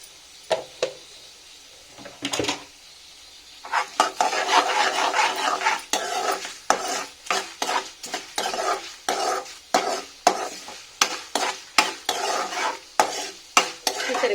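Turmeric being stirred into a sizzling tempering in a pan, with a soft fry hiss under repeated rhythmic scraping and clinking of a spoon against the pot, close and without talk.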